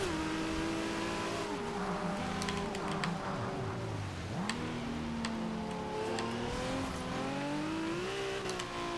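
1995 Toyota Supra RZ in the Forza Horizon 2 racing game, its engine revving up and down through gear changes with rising and falling pitch, loud and close with no talk over it.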